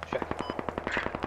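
Rapid rifle fire in the video game Squad, about a dozen sharp shots in a quick steady burst, close and punchy, ending in a louder crack.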